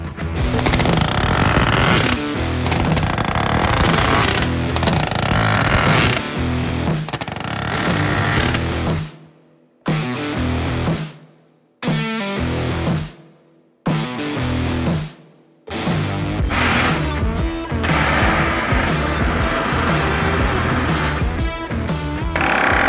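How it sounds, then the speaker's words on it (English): Framing nails driven in quick bursts by a nail gun, loud, harsh and close, with several short pauses between runs of rapid shots and no talking. "I get to drive all those nails."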